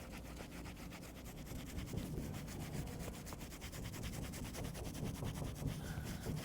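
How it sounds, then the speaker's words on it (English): A small sponge scrubs scuff marks on a leather motorcycle race suit, making a steady, soft rubbing and scratching sound close by, with quick repeated strokes. "I'm going to use this little sponge I have. This is doing a great job, so let's scrub."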